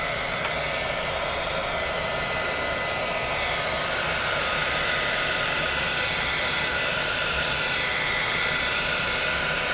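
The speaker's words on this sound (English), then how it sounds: "we'll go ahead and hit it with a heat gun" A heat gun blows a steady, loud rush of hot air to dry paint on paper, running continuously with no break.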